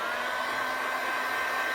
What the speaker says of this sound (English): Just to make sure I'm going to get a heat gun on it and we'll dry it out completely.